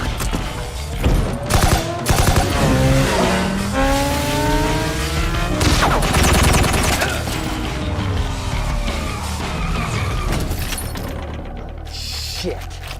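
Gunfire during a Deadpool movie fight scene, with loud shots and bursts mixed among crashes, engine noise and a dense action soundtrack, with someone speaking over the chaos.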